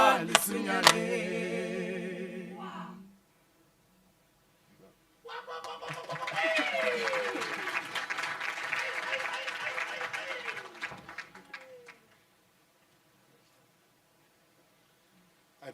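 An audience applauds the University of Johannesburg choir at a memorial lecture, a dense burst of clapping that swells and runs for several seconds after a brief silence, then fades out; the choir's singing is heard before it.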